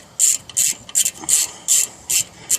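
A ratchet turns brake bolts on a 1998 Jeep Grand Cherokee Laredo 4.0 4x4 during a disc brake job, seven short bursts of bright metallic clicking repeating at an even pace, close up.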